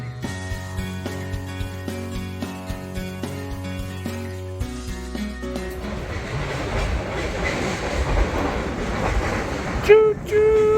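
A train rolls along a railway near the river, starting as a steady rhythmic clatter of wheels that gives way to a broad rumbling wash and a sharp squeal near the end.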